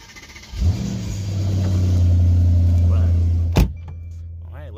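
A car engine cranks and fires, then settles into a loud, steady idle. It cuts off sharply with a thump a few seconds later, and a faint background sound remains.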